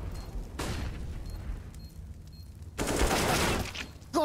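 Bursts of rapid gunfire from a CS:GO match, loud and close, in two dense volleys separated by a quieter stretch, ending with a sharp whip-like shot.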